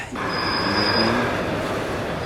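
A train bound for Uppsala, Sweden rumbles steadily close by on rails, with a faint wheel squeal drawn out near the start and a continuous rolling roar throughout.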